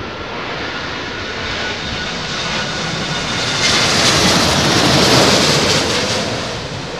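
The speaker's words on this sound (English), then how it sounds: "Dreamliner." A Boeing 787 Dreamliner jet passes at Heathrow in high winds, its broad engine roar steady and close, swelling louder toward the end amid gusty wind noise, with no talking.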